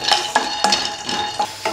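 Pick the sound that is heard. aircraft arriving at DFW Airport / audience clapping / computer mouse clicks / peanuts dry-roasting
peanuts dry-roasting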